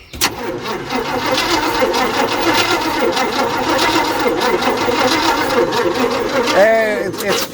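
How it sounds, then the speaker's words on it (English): A 1966 GMC truck with a 509 big-block and twin turbos cranks steadily on its starter, a loud, continuous whirring churn lasting several seconds without catching, with voices talking over it near the end. "we're gonna see if we can get her to fire up"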